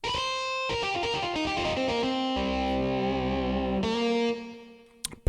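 Distorted "Cool Lead Guitar" voice on a Medeli AKX10 keyboard playing a short phrase of sustained notes and bends, loud and close, ending abruptly with a few clicks.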